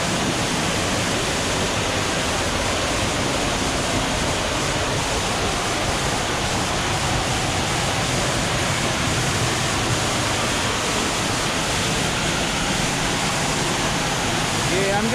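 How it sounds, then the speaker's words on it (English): The upper falls of Cascada de los Caballeros in Suaita, Santander, Colombia roar as a loud, dense, unbroken rush of water heard from close by. "And you can walk right behind the waterfall."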